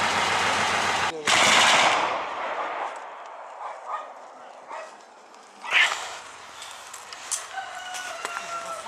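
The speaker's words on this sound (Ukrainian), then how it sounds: "Зараз ми чуємо на центральній частині селища де перестрілка зі стрілецької зброї, а також стукокаліберних кулеметів." Bursts of distant small arms and large-calibre machine gun fire crackle and rattle from a firefight in the centre of Shyrokyne village, with dogs barking and roosters crowing in the background.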